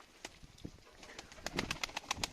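Pigeons nearby with soft cooing and faint rustling, plus a run of quick, regular clicking or flapping taps.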